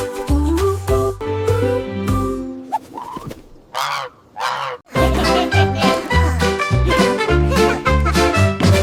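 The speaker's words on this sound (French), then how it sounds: "une oie volant dans un ciel clair" Geese honking loudly and repeatedly, a flock calling in overlapping, nasal honks that pause briefly midway before the chorus resumes.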